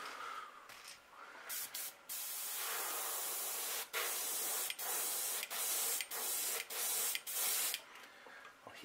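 Airbrush spraying paint coats onto a crankbait fishing lure, a bright hissing spray in repeated bursts of about half a second to a second with brief gaps between, close and clear with no talk.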